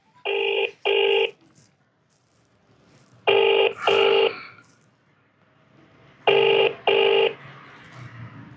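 A phone ringing out on an unanswered call: three pairs of clear electronic double rings, evenly spaced with short silences between them, close and alone.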